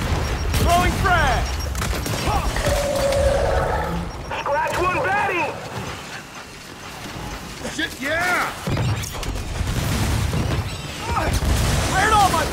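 Frag grenade explosion and gunfire in Gears 5 Horde mode on the Pahanu map, heavy booms and bursts of fire under frequent shouted voices, with busy battle noise throughout.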